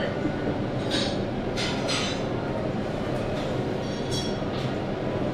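JR Shikoku KiHa 185 series diesel railcar running along the Yosan Line by the sea, a steady close rumble of wheels on rails with clanks and a few brief high squeals throughout.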